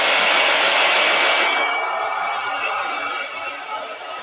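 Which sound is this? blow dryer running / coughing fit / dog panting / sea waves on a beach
blow dryer running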